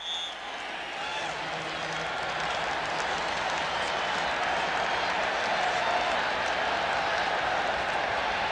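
A large football crowd in the Kingdome roars in a steady, broad wash of cheering and clapping throughout, with a commentator talking over it.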